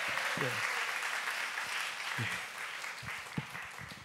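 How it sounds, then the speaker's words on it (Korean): Congregation applause during a Friday church worship service, a steady wash of clapping from a gathered crowd held at an even level, with brief voices and a few exclamations poking through. "두 청년에게 감사의 박수를 주십니다."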